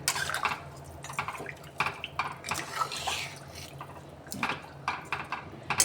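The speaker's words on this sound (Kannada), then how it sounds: "ಒಂದು ಅರ್ಧ ಕಪ್ಪು ನೀರು ಜಾಸ್ತಿ ಹಾಕ್ತೀನಿ" Water poured into a pot of rice and chicken for chicken biryani, close, irregular splashes and gurgling bursts with short pauses between them.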